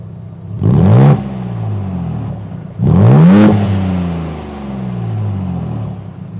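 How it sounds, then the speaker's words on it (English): A Ford Bronco Raptor twin-turbo V6 revs hard twice to about 4,000 RPM, each rise ending in a deep rumbling exhaust note that trails off, loud and close. "You guys like the sound of the exhaust? Twin turbo V6?"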